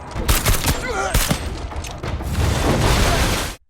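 Rapid bursts of gunfire crack and rattle with heavy booming grenade explosions mixed in at a bridge blockade in a film, loud and continuous with a dense, chaotic rumble throughout.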